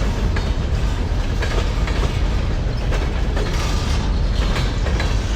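A Portland & Western SD7 locomotive switches railcars, with a steady loud rumble of engine and rolling cars and repeated metallic clanks and wheel clatter throughout.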